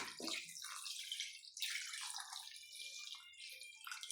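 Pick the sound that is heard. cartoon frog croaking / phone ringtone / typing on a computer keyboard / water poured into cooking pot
water poured into cooking pot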